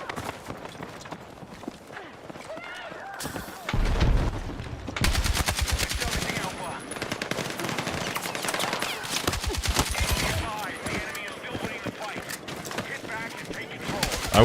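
A light machine gun in the shooter Battlefield 6 fires rapid sustained bursts that crackle loudly across most of the stretch, with a voice talking over the gunfire.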